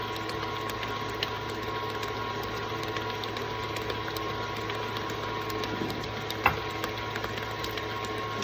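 An electric mixer whirs continuously and steadily through cupcake batter, a close mechanical hum with faint rattling and one brief knock, no talking.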